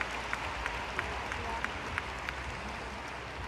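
A home crowd at the Trofeo Città di Jesolo artistic gymnastics meet in Italy applauds an Italian gymnast's clean routine. The clapping is dense and steady, with a few sharper claps standing out.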